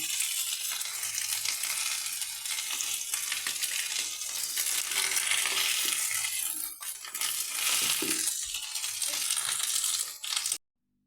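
Pumpkin slices fry on a banana leaf in a pan, giving a loud, dense crackling sizzle that runs continuously, briefly dips, then cuts off abruptly.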